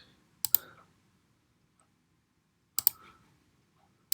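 Mouse clicks while drawing shapes in Adobe Illustrator come in two close double-click pairs separated by a couple of seconds of quiet, crisp and near, with a faint click at the end.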